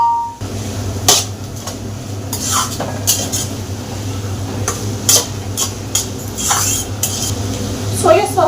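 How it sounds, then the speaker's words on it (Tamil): Onions and capsicum being stir-fried in a pan for a dragon chicken dish, with a steady sizzle beneath repeated scraping and clinking of a utensil against the pan in uneven strokes, close by. "வெங்காயம் நல்லா வதக்கணும்."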